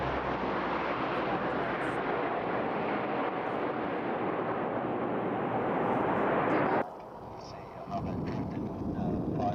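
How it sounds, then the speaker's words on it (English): C-130 Hercules firefighting aircraft flying low, around 150 feet, on a retardant drop run: a loud, steady, broad engine roar with wind buffeting that drops off abruptly near the end, then continues more thinly. "In the drop run, the aircraft flies close to the ground, somewhere around 150 feet, to reduce retardant fluid evaporation."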